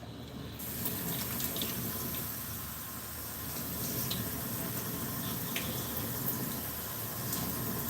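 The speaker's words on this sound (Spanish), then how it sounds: "Ahora tenemos la masa seca, pero vamos a agregarle agua para hacer nuestra arepa." Water runs from a tap and splashes into dry arepa dough in a kitchen, a steady close stream lasting several seconds with faint drips, no talk.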